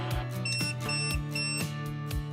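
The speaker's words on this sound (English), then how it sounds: "tap Save, and the shade will jog twice and beep 3 times to confirm" An AMP motorized shade gives a series of short electronic confirmation beeps over a low mechanical hum, evenly spaced and fairly close.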